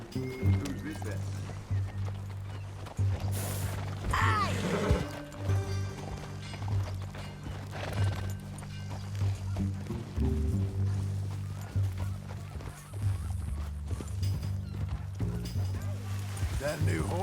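Horse hooves clip-clopping in Red Dead Redemption 2, a steady rhythmic trot heard under background music and game sounds, with voices talking over it.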